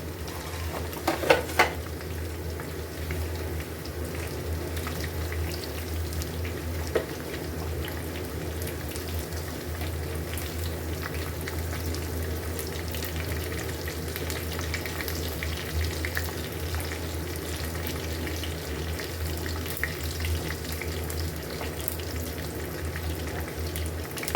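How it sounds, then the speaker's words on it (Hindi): Chicken pieces for khadi pakora frying in hot oil, giving a steady, even sizzle that runs throughout, with a few utensil clinks near the start. "खूबसूरत सा कलर आने तक इनको हमने फ्राई कर लेना है।"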